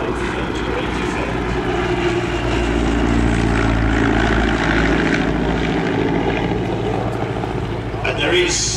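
A First World War SE5 biplane flies at the Shuttleworth evening airshow, its propeller engine droning steadily and fairly loud through the whole stretch, with a voice talking over it.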